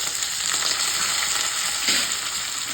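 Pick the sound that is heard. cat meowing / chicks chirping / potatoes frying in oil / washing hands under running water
potatoes frying in oil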